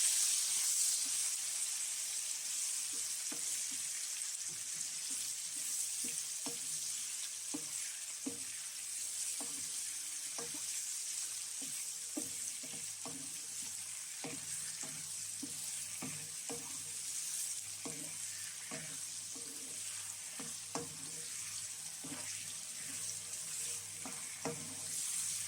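Onion stir frying in a pan while making jollof rice with prawns, a steady soft sizzle with repeated clicks and scrapes of a utensil stirring, close and fairly quiet, with no talking.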